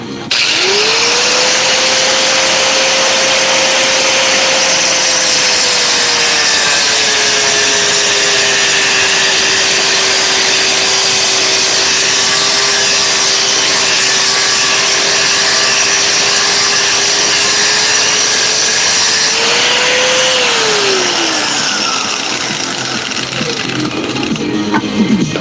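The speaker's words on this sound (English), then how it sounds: "Use the grinder again." An angle grinder grinds metal in one long, loud, continuous run of about twenty seconds, its high whine holding steady and then falling away as it spins down at the end.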